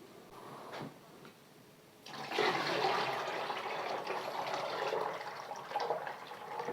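Hot melted beeswax is poured from a bowl into a plastic container, giving a soft continuous trickling that starts after a couple of quiet knocks and carries on to the end.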